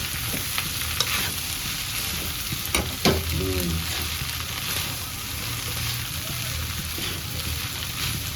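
Chicken, egg and macaroni frying and being stirred in a pan, a steady sizzle running throughout with a few scraping stirs and knocks near the start.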